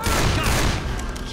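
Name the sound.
sniper rifle gunshot in video game Left 4 Dead 2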